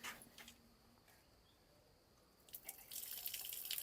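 A household tap with weak, low flow lets out a thin, faint trickle that swells into a louder, steadier stream toward the end.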